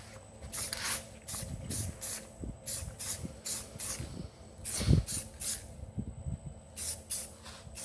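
Spray gun bursts of paint laying even coats on homemade farmer's carry handles, a run of short hissing sprays in an irregular rhythm, close and fairly loud, with no talking.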